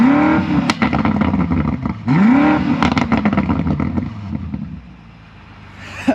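A stock 2022 BMW M5 Competition's twin-turbo V8 revs loudly close by, blipping in two sharp rising sweeps with clattering bursts between, then settling to a quieter idle.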